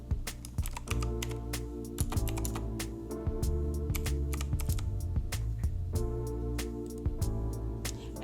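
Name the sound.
typing on a computer keyboard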